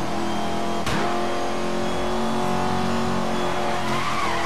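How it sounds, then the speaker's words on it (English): A car drifting around a mountainside corner in the Need for Speed Most Wanted video game, with steady engine drone, a sharp transient near the start and skidding tire noise running throughout, loud and close. "Just drifting around this corner, bombing it into 4th."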